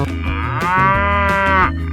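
A cow in a 3D animal sliding video game lets out a loud, drawn-out moo that swells in the middle and fades, heard alone up close.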